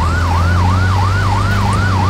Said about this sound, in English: I hear a cop car somewhere.